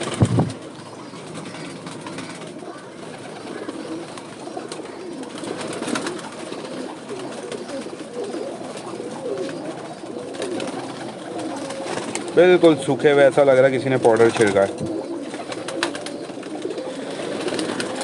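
Pet pigeons on a rooftop coo in low rolling murmurs under someone talking steadily, with a louder, closer burst of cooing swelling briefly before subsiding back beneath the voice.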